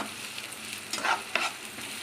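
Green chillies, cut long and thin, frying and being stirred in a pan for paneer bhurji, giving a soft steady sizzle with two brief louder bursts of stirring near the middle.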